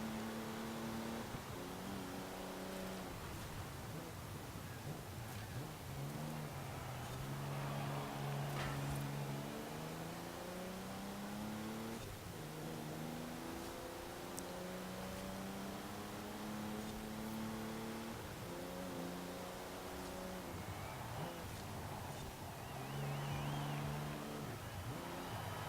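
A Maserati MC12 Corsa racing in a video game, its engine droning loudly and continuously with rising and falling revs through repeated gear changes.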